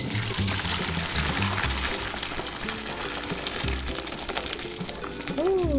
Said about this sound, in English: I'm going to strain this broth, either through a strainer or if you have cheesecloth